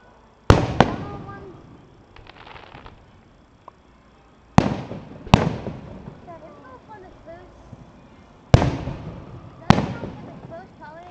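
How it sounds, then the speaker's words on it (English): Fireworks burst close by at a fireworks show in Dallas, in pairs of sharp booms, each followed by fading crackle, with people talking quietly between blasts. "I'm gonna put these on YouTube. Fireworks show."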